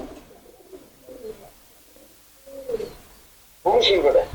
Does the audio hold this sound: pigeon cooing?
yes